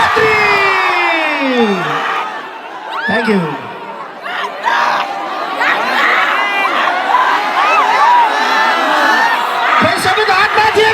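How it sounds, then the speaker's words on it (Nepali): A large crowd at the Lamahi fair in Dang cheers, whoops and shouts in a loud, continuous roar with scattered clapping, and a voice speaks briefly over the noise. "आजको लोकप्रिय कलाकार लोकप्रिय नृत्याङ्गना एक पटक दाङ लमईको जोरदार ताली र हल्लाले स्वागत गरौँ"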